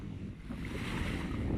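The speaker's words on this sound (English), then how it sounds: "Right guys, at Shoreham Beach now." Sea at Shoreham Beach near high tide on a flat calm day, with a steady broad wash of small waves mixed with wind rumble on the microphone and no voices.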